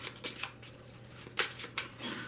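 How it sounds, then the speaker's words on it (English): A stack of game cards for the Dungeon Flee board game is shuffled quickly, giving soft, rapid riffling bursts at close range in a quiet room with no talking. "you can give these a good shuffle"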